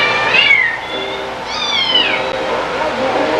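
Several high, thin meows from four young kittens, rising and falling calls close by with a soft background hum.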